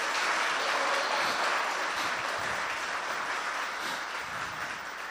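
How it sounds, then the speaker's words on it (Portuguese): A church congregation claps loudly for the Lord during a worship service, producing a thick, continuous wall of applause that stays close and strong and eases slightly toward the end, with no talking over it. "Aplauda ao Senhor bem forte"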